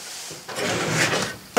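A drawer in a machine shop tool cabinet slides open with a short rasping scrape, ending in a sharp knock as it stops, close by and with no talk.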